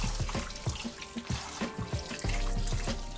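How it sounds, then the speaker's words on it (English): Running tap water splashes and gurgles in a sink as a fish is rinsed and washed, close and fairly loud, with irregular splashy bursts as the flow hits the fish and basin. "Now I'm just gonna rinse it out, wash it, and cut it in half."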